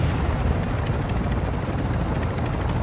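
Helicopter in the video game Call of Duty Warzone 2.0 DMZ, a loud, steady rotor thump and engine roar that runs without pause and stays close.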